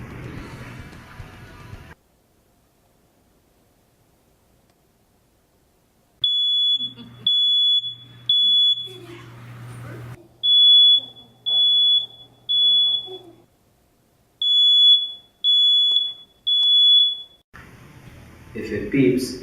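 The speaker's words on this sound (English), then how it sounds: "If it beeps, your detector is working." A smoke detector's test alarm sounds in a home, sharp high-pitched beeps in repeated groups of three, loud and clear, with a voice talking before and after.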